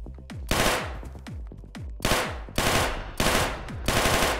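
Submachine gun fire in the indie horror action game Karantiin: several loud, close bursts of rapid shots, each with a sharp crack and a booming tail, separated by brief pauses.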